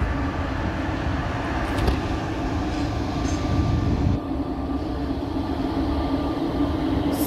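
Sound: train passing through Astana railway station

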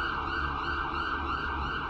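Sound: police car siren in a video game

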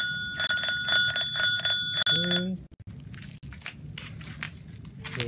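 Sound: bell on a Pacific Hotshot Batman children's bicycle

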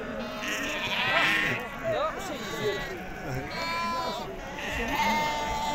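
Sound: sheep bleating at a livestock market

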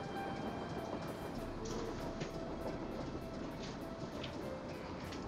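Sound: train running on rails in Nancy Drew video game

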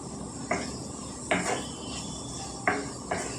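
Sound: carrots and potatoes frying in a pan

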